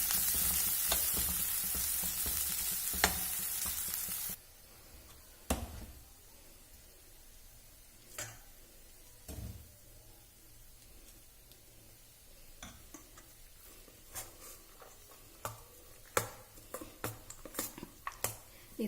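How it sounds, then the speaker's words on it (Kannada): Millet rice is stirred together with chitranna paste made with doddapatre leaves: a few seconds of hissing sizzle, then scattered spoon scrapes and clinks against the pot, irregular and close, with faint background hum. "ಇದನ್ನು ಅನ್ನದ ಜೊತೆ ಮಿಕ್ಸ್ ಮಾಡೋಣ."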